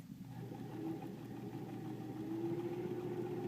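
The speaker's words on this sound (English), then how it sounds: "I'm going to line up those raw edges, and then I'm going to sew that seam across" A sewing machine runs steadily as it stitches a seam during foundation paper piecing, a low, even motor hum that continues throughout without pauses.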